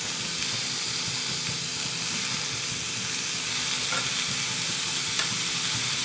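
Chopped vegetables for khichdi sizzle loudly in spiced oil in a pan, a dense continuous hiss with faint stirring scrapes beneath, close and steady throughout, no voices.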